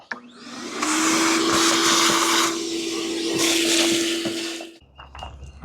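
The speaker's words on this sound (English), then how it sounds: "Let's vacuum up all the rat poop and dirt dauber nests and everything under here." A vacuum cleaner runs loudly nearby in the engine bay of an abandoned 1964 Mercury, with a steady motor whine, its pitch shifting as the nozzle moves, before cutting off near the end.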